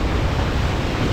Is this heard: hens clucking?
no